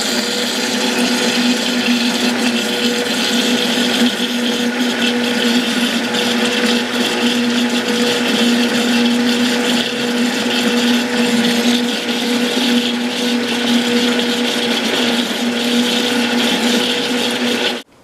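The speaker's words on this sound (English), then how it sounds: "And now we have to mix this up, blend this together." An electric blender runs steadily for the whole stretch, mixing cake batter of apple juice, eggs and oil with a loud, even motor whine and a churning wash, no voices over it.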